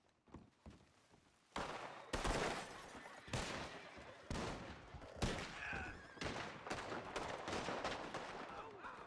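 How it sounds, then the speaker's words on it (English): Masked gangs trade gunfire in the Red Dead RP video game. After a few quiet pops, loud overlapping shots and bursts break out and keep going, with booming reports above a busy mix of movement sounds. "they're both masked right now, and they're all shooting at each other"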